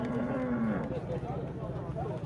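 Cattle at a livestock fair in Águas Belas, Pernambuco, one animal giving a drawn-out moo near the start against a busy background of crowd chatter and people talking close by.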